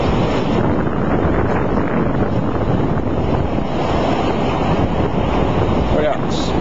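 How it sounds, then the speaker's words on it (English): Strong outdoor wind in the Philippines buffets the microphone with a loud, continuous roar and rumble that never lets up across the whole stretch. "A lot of wind."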